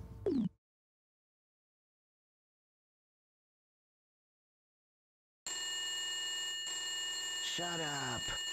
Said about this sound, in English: This is a ringer. It must be an alarm or something.